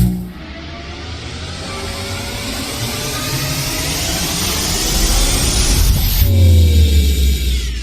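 A machine starts up with a loud, rushing, vacuum-like suction roar that swells steadily for several seconds, then cuts to a lower, rumbling hum.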